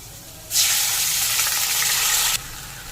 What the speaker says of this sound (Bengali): এবার অল্প একটু জল দিয়ে দেবো।